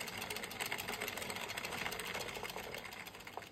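An Addi 46-needle circular knitting machine being hand-cranked while knitting a beanie: a rapid, continuous mechanical clicking and whirring with fine rhythmic ticks, close and steady, easing slightly at the end, with no voices.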